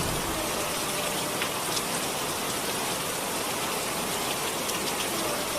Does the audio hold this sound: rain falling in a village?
yes